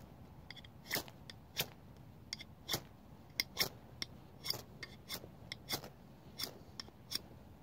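A MOD survival knife is scraped along a surface in short, sharp rasping strokes, about fifteen of them, irregularly spaced and fairly quiet against a faint background.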